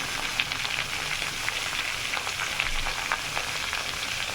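Dry fish and radish frying in a pan with salt, turmeric and dried chili powder, a continuous close sizzle with light crackling and small spatters, alone without speech.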